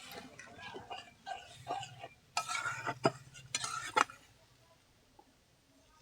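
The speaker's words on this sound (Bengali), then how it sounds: "ভালো করে মিশিয়ে নেব।" A spice mixture with added water and salt is stirred in a pan for a jackfruit-seed curry, giving a series of close scraping and clinking strokes with a louder burst in the middle before it fades to quiet.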